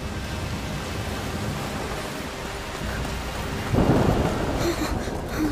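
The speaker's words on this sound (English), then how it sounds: "The rain is getting worse." A heavy rainstorm with thunder in the video game A Plague Tale Requiem: a constant hiss of rain with low rolling thunder, rising into a louder rumble partway through, no talking.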